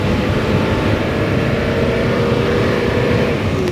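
Car engine running during a test drive of a manual-transmission car with a late-shifting fault, a dense rumbling drone that stays loud and steady throughout with no voices.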